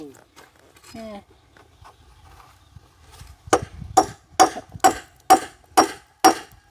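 Hammer blows on wood while a house roof frame is being built, about eight loud, evenly spaced strikes close by, following a stretch of quiet voices and handling noises.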